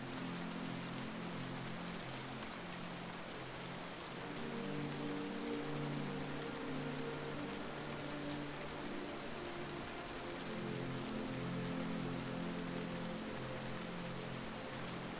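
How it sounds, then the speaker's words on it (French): Steady rain falls on surfaces in a dense, even patter, with soft hum-like tones running underneath throughout; no one speaks. "La pluie"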